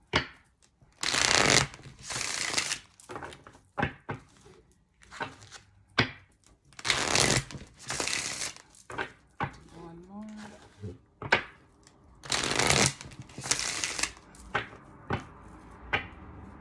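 A deck of tarot cards is shuffled in repeated loud riffling bursts with short pauses between, close up, while a voice speaks in the gaps.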